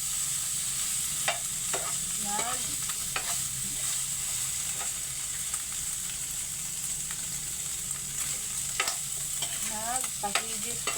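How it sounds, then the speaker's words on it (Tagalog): Pork fat renders in a hot pan to sauté aromatics for a mung bean stew, giving a constant close sizzle broken by scattered stirring scrapes and taps, with no voices. "Nagpahigis po tayo ng ating karneng taba para gamitin natin sa paggisa ng ating mga lamas o mga ricados"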